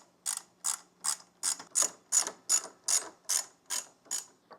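Close ratchet clicks come in eleven even, evenly spaced bursts as bolts are removed from a Honda CRF300L Rally motorcycle, crisp and alone against a quiet background.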